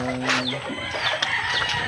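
Chickens and roosters cluck repeatedly and close by in a pen, with overlapping calls and a brief crow-like note, as the flock of fowl is being medicated and readied for tethering.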